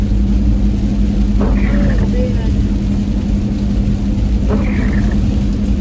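A car drives home on a rainy afternoon road, its tires and engine making a loud, steady rumble from inside the cabin, with brief voices over the drone.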